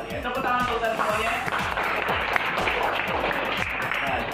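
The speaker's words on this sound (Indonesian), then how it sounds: "Tepuk tangan untuk semuanya." A classroom of pupils applauds together in a busy, continuous patter, while a repeating rhythmic tone pattern plays alongside the clapping.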